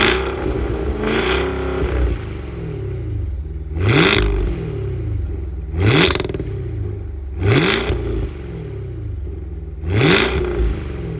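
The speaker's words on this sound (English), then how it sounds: "let's hear this car do a couple revs first" A Cadillac Escalade V's supercharged V8 revs repeatedly, four or five sharp, loud blips rising and falling over a rumbling idle, each rev spaced about two seconds apart, with no talk.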